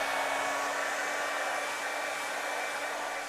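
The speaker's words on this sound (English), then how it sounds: "It blows air, and it's very loud. What is it? Yes, it's a hair dryer." A hair dryer blowing steadily at full power, a loud continuous rushing whir with a faint motor hum, close by and unchanging.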